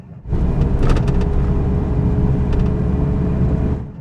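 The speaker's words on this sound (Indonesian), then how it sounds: "Kita coba akselerasinya sekarang ya." A 2005 Chevrolet Aveo accelerating on the road, its engine note rising as a steady, loud rumble throughout, with brief lighter clicks early on.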